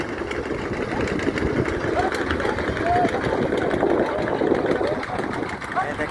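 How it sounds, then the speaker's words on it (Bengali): Two boats setting off across a river near Dhaka, their engines chugging in a steady rhythmic drone at moderate level while someone talks throughout. "এই দুইটি নৌকা ছেড়ে যাচ্ছে ওপার।"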